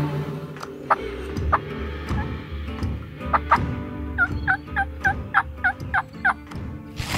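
A wild turkey tom gobbles repeatedly in spring in Wisconsin, a run of rattling gobbles rising in a steady sequence, fairly close against an outdoor background.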